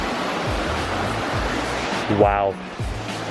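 A waterfall rushes as steady, loud broadband noise close by, with a brief vocal exclamation over it.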